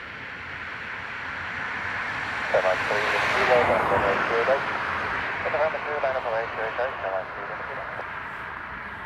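A Ryanair airliner takes off from runway 28 right at Dublin Airport, its engine roar swelling from a distance while a radio voice speaks over it.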